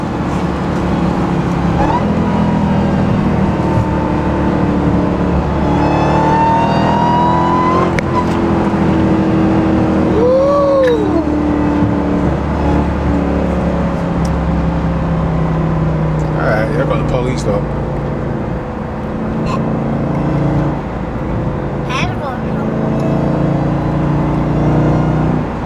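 A Dodge Hellcat Redeye fitted with a Corsa cold air intake runs loud and close, its supercharger whine rising and falling over a deep engine roar while people talk over it.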